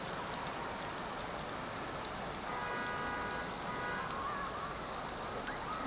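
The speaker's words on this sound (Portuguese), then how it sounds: "Olha essa chuva, cada pingão." Heavy rain with big drops pours down steadily, a dense continuous hiss of water hitting surfaces, loud and close with no break.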